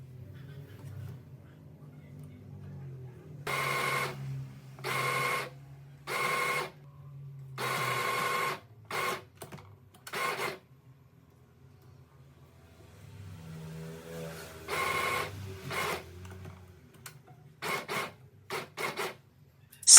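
A sewing machine stitches a DIY coquette top in short, loud bursts of running, with pauses of handling between them, the bursts grouped in a rapid series near the end.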